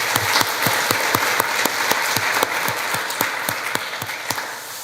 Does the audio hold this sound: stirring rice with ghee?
no